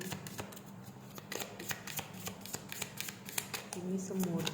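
Tarot cards being shuffled in quick, crisp riffles, a steady run of sharp flicks and snaps with short pauses, sitting under a voice that talks throughout.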